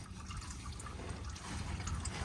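Engine oil drains from a 2008 Toyota Avalon V6 3.5L during an oil change, a faint steady trickle and drip blended into a hissy background with no talk.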